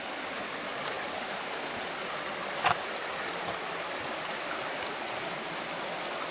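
Mountain water flows steadily down on the west coast near Puerto Princesa, a constant close rushing wash with no breaks. A brief faint click is heard partway through.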